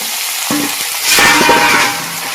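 Chicken marinated in salt, turmeric and oil goes into a hot pan: a steady frying hiss swells into a louder, brighter sizzle as the meat lands, then settles back to a steady crackle, close and fairly loud.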